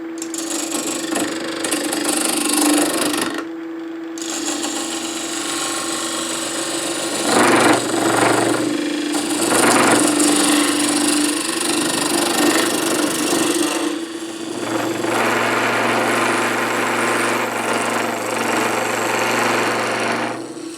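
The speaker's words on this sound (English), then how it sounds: "I'm going to use a 3/8 inch, very flat, C-fluted type of bowl gouge for this." A wood lathe spins a mortar blank while a 3/8 inch flat C-fluted bowl gouge cuts into it, making a steady loud motor hum with scraping bursts and brief pauses, and no talking.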